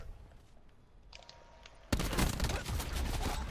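Sudden dense burst of video game gunfire breaks in near the two-second mark, loud rapid shots piling over each other after a quieter stretch of faint background game noise.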